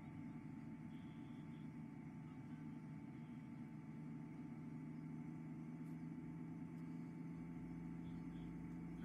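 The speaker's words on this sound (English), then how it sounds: "I got my baling tractor." A baling tractor engine in a farming video game drones steadily at low pitch, a constant close rumble with no pauses and no talking.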